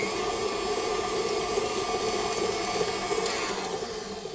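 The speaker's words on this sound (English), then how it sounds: "Again, stop your mixer." An electric mixer whirs steadily through cheesecake batter, a loud, even motor drone close by that softens slightly near the end.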